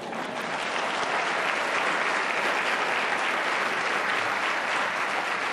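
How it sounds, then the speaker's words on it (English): An audience at a university Welcome Day event claps continuously for several seconds, making a dense, steady wash of applause with no pauses and no clear voices. "You should have clapped louder for that."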